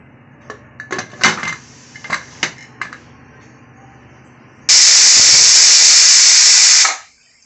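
A few clinks of pots, then a pressure cooker cooking pumpkin for payasam lets out a loud, steady hissing whistle for a couple of seconds before cutting off.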